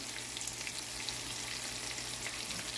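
Pancetta and mushrooms frying in a pan, giving a continuous, dense sizzle with fine crackling that stays steady and fairly quiet.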